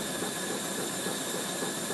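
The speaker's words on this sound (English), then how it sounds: "The vessel is powered by a twin-cylinder 90-degree V steam engine with a slip eccentric reverse system and a double-acting slide valve arrangement seen here" A boat's twin-cylinder 90-degree V steam engine with slip eccentric reverse and double-acting slide valves, its boiler fired with compressed sawdust logs, gives off a steady, unbroken hiss of steam that runs evenly throughout without a clear beat.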